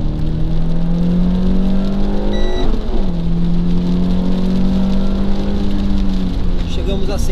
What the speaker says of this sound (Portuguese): Vamos ver como é que fica a nossa aceleração até 100 km por hora.